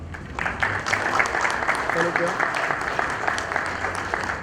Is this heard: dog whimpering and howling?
no